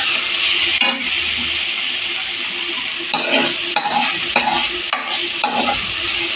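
Crushed peas and corn sautéing in oil, a continuous sizzle broken by several sharp bursts of stirring and scraping in the pan.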